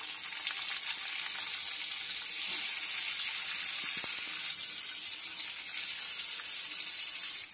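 Thinly sliced onions frying in hot oil with nigella seeds, a loud continuous hissing sizzle that holds steady and close throughout.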